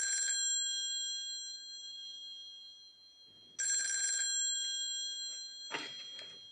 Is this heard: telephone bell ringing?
yes